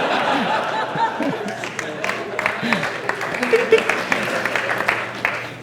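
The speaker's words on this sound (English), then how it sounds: "big round of applause" An audience at the DDD Brisbane 2015 developer conference breaks into applause at the end of a talk about compilers, a crowd of clapping hands mixed with a few chuckles and voices, fairly close and sustained.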